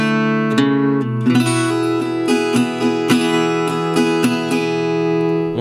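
Acoustic guitar playing the third and final section of a song in a lesson setting, with a steady series of close, bright plucked notes and strums ringing over sustained low strings, no talking.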